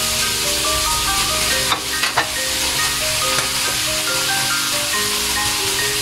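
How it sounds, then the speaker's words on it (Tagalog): Beef innards and intestines sauté in a pan with a steady loud sizzle and hiss, plus a few brief stirring clinks partway through. "Kasi importante na igisa yung isaw."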